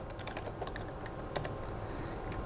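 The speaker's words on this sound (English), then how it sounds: "give this effect a unique name by typing in the Effect Name box" Rapid keystrokes on a computer keyboard, typing a name into a box in laser show software, with an irregular patter of close, moderately loud clicks over steady background hum.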